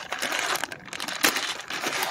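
Plastic bag crinkling and rustling as the parts of a Powerbuilt 2-ton UniJack hydraulic bottle jack are unpacked, a steady close crackle with a sharper crunch midway.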